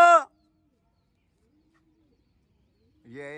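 Pigeons kept by a pigeon fancier cooing close by in two short bursts, one at the start and one at the end, with near silence in between.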